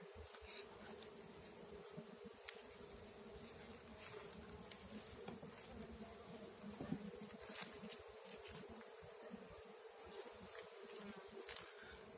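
A dense, steady buzzing of many honey bees in an open hive, close and continuous, with occasional individual bees zipping past louder.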